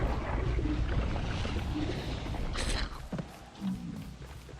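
Travelling through a wormhole in the video game Don't Starve gives a soft, rushing, wind-like whoosh that swells into a brighter surge near the end, then settles, fairly quiet and without speech.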